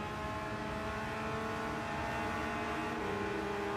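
A Lamborghini race car engine in Gran Turismo 7 at Fuji drones at a steady high pitch with a slight rise near the end, continuous and fairly quiet, with no voices.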